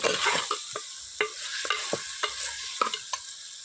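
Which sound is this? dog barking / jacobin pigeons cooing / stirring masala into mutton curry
stirring masala into mutton curry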